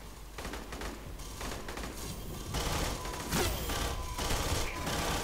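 Rapid bursts of automatic gunfire from the video game Aliens: Colonial Marines crackle in dense, overlapping volleys, loud and continuous across the moment amid other game noise.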